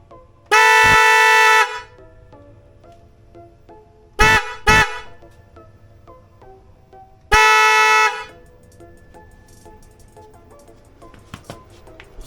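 An aftermarket horn fitted to an all-black Indian Challenger motorcycle sounds loud and close: one long honk, then a quick double toot, then another long blast, with quiet gaps between.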